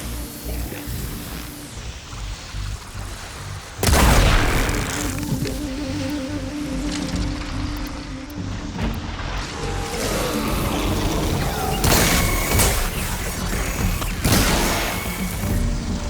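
Glowing crystals detonating in Horizon Forbidden West, a sudden loud burst followed by sustained rumbling noise and further crashing impacts under continuous game ambience.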